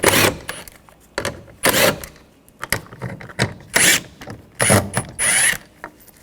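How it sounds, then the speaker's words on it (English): A ratchet with a 10mm socket turning bolts out of a 2014-2020 Nissan door during window regulator replacement, giving loud, close bursts of rapid clicking repeated in short spurts with pauses between. "Using a 10mm socket, we're going to take these bolts out."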